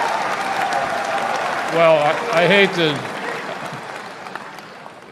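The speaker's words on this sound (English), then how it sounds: "what are you clapping for, that I am or I'm not?" An audience at a talk applauds in a steady wash of clapping, with a voice speaking over it partway through.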